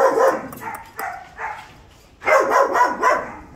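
A red-brown Doberman, a tall German-line mother dog, barks in close, loud bursts, several quick barks early then a denser volley of barks toward the end.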